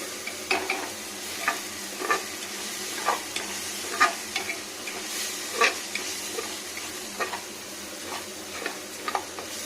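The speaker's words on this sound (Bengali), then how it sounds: "মুগ ডালটা ভাজা হয়ে গেলে" Moong dal frying in a pan for a vegetarian khichuri, a soft steady sizzle broken by repeated scraping stirs at an uneven rhythm, close and alone without talk.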